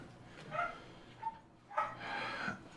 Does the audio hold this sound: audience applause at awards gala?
no